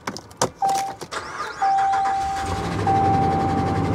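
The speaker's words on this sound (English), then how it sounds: "Gee, it has a misfire." A car cranks and starts, then settles into a loud close idle with an uneven, stumbling misfire, accompanied by steady whining tones; the car has 178,000 miles on the odometer.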